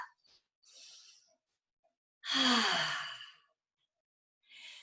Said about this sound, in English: Another nice cleansing breath.